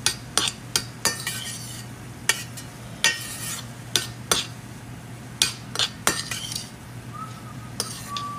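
Metal utensils clink and scrape in a pan as rice is mixed bibim-style at home, with sharp irregular taps and knocks over a low steady hum. No one speaks.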